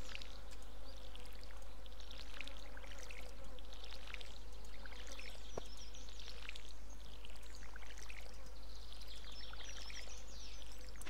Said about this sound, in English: Getting better at the watering thing.